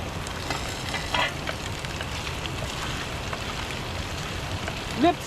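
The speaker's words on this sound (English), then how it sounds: "Let's start stirring it once again." Butter chicken, Naga style, sizzling and being stirred in a pan, a steady close frying hiss with occasional scrape-like bumps, a voice briefly audible near the end.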